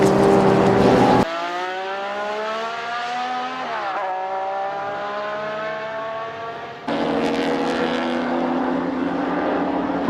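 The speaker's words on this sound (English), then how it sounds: "Brett Gibson has his Lotus Elan on the limit" 1960s racing cars at Warwick Farm circuit, including a Lotus Elan driven at the limit, roar past loudly with rising and falling engine notes, one car's harmonic whine sweeping as it passes before another loud engine cuts in.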